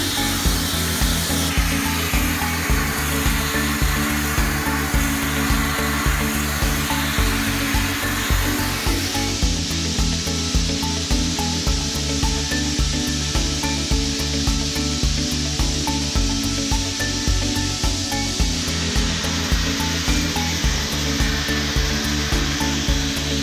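A Schmidt AmphiBlast blasting machine runs on air alone, a loud continuous hissing rush with a steady pulsing mechanical undertone, shifting in tone partway through, with no voices.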